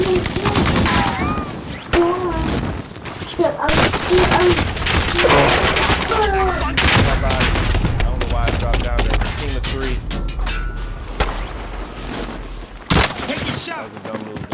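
Rapid gunfire crackles through a Call of Duty: Modern Warfare match, loud and dense bursts of shots almost continuously, with sharp cracks and heavy impacts, mixed with game sound effects and occasional voices.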